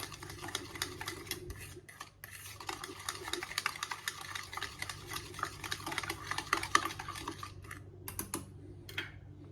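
Powdered sugar is stirred into eggless cake batter for appe, giving a continuous quick clicking and scraping of utensil against bowl, with brief pauses near the start and end.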